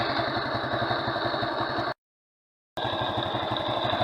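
A small moped engine, not yet warmed up, idles steadily with a rapid, even putter, cut off briefly by a second of total silence before running on again.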